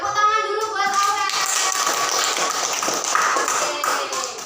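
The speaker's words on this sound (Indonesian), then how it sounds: "Tepuk tangan dulu buat Aurel" Children in a third-grade primary school classroom clap for a classmate, a lively burst of clapping mixed with young voices and shuffling that tapers off toward the end.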